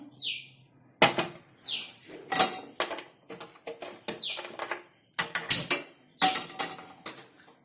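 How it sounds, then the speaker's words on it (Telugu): A metal kadai set down on a stove brings loud clanks and knocks of cookware, repeated bangs and scrapes close by, with short bright chirp-like squeaks between the impacts. "కడాయి పెట్టా నేను"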